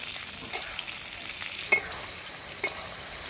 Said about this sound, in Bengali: কুলটাকে কিন্তু তেলের সাথে একটু ভেজে নিতে হবে